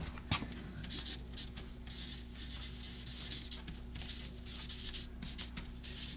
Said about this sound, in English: I gotta write that down too.